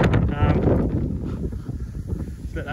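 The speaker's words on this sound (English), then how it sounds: "Sorry about the wind." Gusting wind on an outdoor farm while lavender is being planted, a loud rushing roar buffeting the microphone and staying continuous throughout the short stretch.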